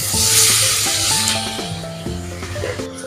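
Squid dropped into a pan of hot cooked-down masala for a toddy-shop style Kerala squid roast, sizzling loudly and steadily with a bright hiss and stirring scrapes, no voices.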